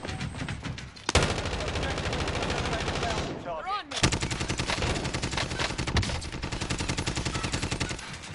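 Gunfire in Warzone: rapid automatic bursts crackle loud and close, broken by a short pause, then another long sustained volley of quick repeated shots, with a voice briefly audible.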